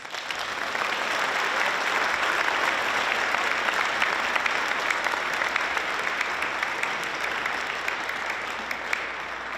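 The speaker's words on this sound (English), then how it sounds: "Let's give her a big round of applause." Sustained, dense applause from a seated audience at a student research colloquium, honoring a longtime mentor; even and full throughout with no speech.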